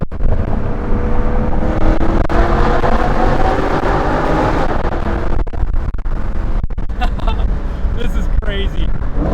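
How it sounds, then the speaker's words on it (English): A BMW M3 V8 downshifts and revs hard inside a tunnel with the windows down, a loud booming roar echoing off the walls, swelling and then easing off, with crackles near the end. "The V8 sounds so good. Arguably one of the best sounding V8s ever made on this planet."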